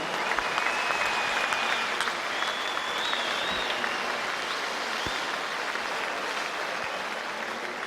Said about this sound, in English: Both boxers deserve a big round of applause.